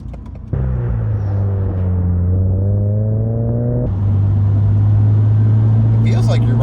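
A Subaru BRZ TS race car's loud engine drone from inside the cabin, a steady, near, harmonic roar that dips and picks up again after a shift partway through.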